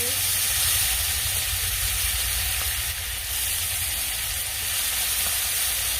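Mustard seeds, cumin, asafoetida, turmeric, green garlic and ginger sizzle and crackle in hot oil, a steady, loud frying hiss for the whole stretch with no talk.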